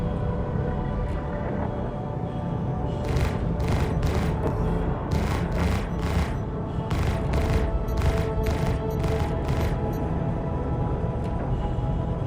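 Sustained rapid weapons fire from spaceships in a Star Citizen dogfight, a steady rattling stream punctuated by a dozen sharp bright bursts, loud and continuous.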